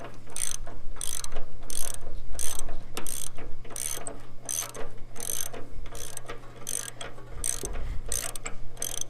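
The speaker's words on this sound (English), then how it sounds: "Got my 11/8 socket, and I'm just going to tighten it up." Ratchet wrench with an 11/8 socket tightening a bolt on a roller, a series of rapid rhythmic clicking bursts repeating steadily, close and clear over a low hum.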